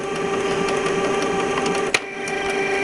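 A Canon MP250 inkjet printer starts up again after its P08 error is reset. Its mechanism whirs and hums steadily, with a faint rhythmic ticking and one sharp click near the end.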